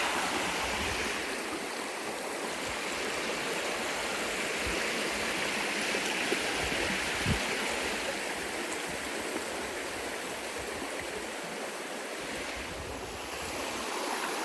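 Big Carp River rushing beneath a footbridge on a backpacking trail in the Porcupine Mountains, a steady broad wash of flowing water that holds an even level throughout with a hint of wind, no voices.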